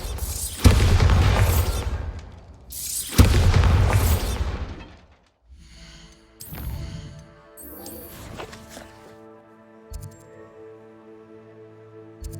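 Bombarda spell blasts in Hogwarts Legacy, two loud booming explosions in quick succession with long rumbling tails, followed by quieter magical tones and ringing effects.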